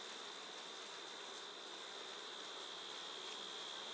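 Honey bees buzzing steadily around an open hive's lower brood box as they draw out new comb, a dense continuous hum heard close without any talk.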